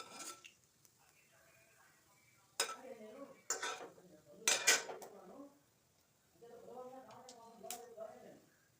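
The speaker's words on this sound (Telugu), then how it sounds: "తర్వాత ఇప్పుడు పోపు వేద్దాం. కొంచెం నూనె పెట్టుకుని" Spices tempered in hot oil in a pan while cooking batter-based food, heard as sharp metallic clanks and stirring bursts with light sizzling between quiet gaps; a voice talks softly in places.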